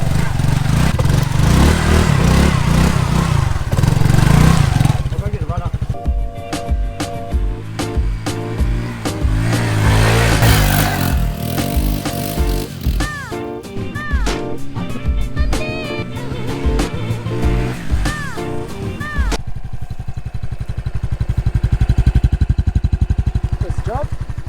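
Honda XRM 125 farm motorbike riding along, its small engine buzzing and revving in varying pitch, with a person talking over it for much of the ride and wind noise near the end.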